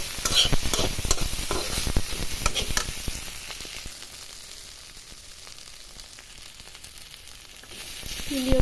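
Potato and bitter gourd pieces sizzle and fry in a pan, loud with stirring and scraping at first, then settling into a steady softer hiss, with no voices.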